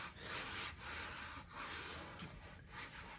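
Hand smoothing fresh tolex covering onto a Fender Super Reverb amp cabinet, soft rubbing strokes repeating in a steady rhythm, close and quiet.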